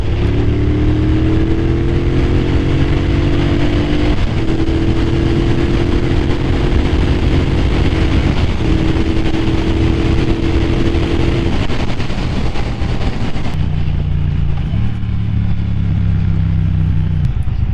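A 2022 Triumph Bonneville Bobber accelerates hard from third gear, its loud close exhaust note rising steadily through the revs with brief dips at gear changes and constant wind rush.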